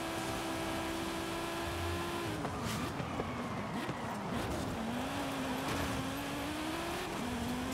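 Audi Quattro S1 legend racing car driven in Forza Horizon 5: a continuous, close engine drone whose pitch dips, then climbs and wavers as the car revs through gears, with no pauses.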